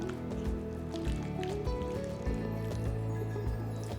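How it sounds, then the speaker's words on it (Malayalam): Chicken pieces are mixed by hand with an olive oil marinade in a bowl, giving close, wet squishing and slapping sounds in an uneven rhythm, with faint kitchen clatter behind. "ഇനി ഇതിലേക്ക് നമുക്ക് 1 ടേബിൾ സ്പൂൺ ഒലിവ് ഓയിൽ നന്നായിട്ട് മിക്സ് ചെയ്യുക."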